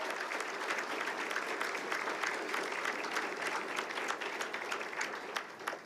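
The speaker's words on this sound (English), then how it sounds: "give a round of applause to all the parents in the room" At an annual sports awards ceremony, an audience claps steadily for the parents, a dense, even wash of hand claps heard at a moderate distance with no voices.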